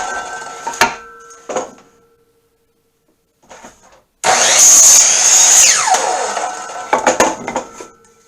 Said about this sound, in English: So I'll just cut the board into 3 pieces here.